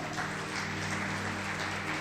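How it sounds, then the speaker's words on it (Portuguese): Church congregation applauding during a worship service, a steady dense wash of clapping filling the whole stretch at moderate level, with organ-like sustained tones underneath. "Você pode aplaudir o Senhor?"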